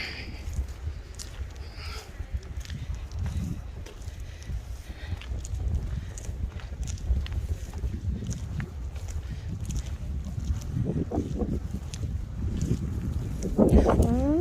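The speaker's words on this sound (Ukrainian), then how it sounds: "який вітер розходжується" Wind gusts and rumbles low against the microphone, a constant buffeting roar with faint scattered knocks underneath.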